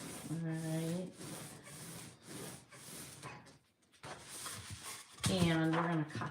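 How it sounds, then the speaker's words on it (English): Material being creased by hand while making a winter button tree craft: a steady rubbing, scraping friction that builds in short sustained passes, close and fairly loud, with talking over parts of it. "I'm going to make a crease."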